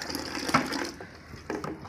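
Water pours from a tap or pump into a container holding fish, a steady close gushing with a brief louder splash near the middle and another surge toward the end.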